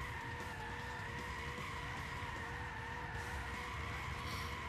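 A 1965 Shelby GT350 drift build in Gran Turismo 6 slides with a continuous, steady tire squeal layered over a droning engine, loud and unbroken throughout.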